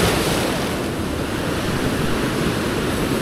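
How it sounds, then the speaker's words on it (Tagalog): Powerful sea waves crash and roar in a dense, unbroken wash of surf with wind gusting across the microphone, close and loud, with no voices. "Ala, lakas ang alon."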